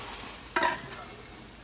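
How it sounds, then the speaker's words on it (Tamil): Raw banana sautés in a pan with a quiet background sizzle, broken by a single brief scrape as it is stirred. No speech. "இந்த பக்கம் வந்து வாழைக்காவையும் வதக்கி விட்டுருக்கேன்"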